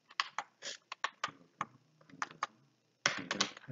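Quick, irregular clicks of typing on a computer keyboard, close and fairly quiet, in bursts with a short pause before a final flurry.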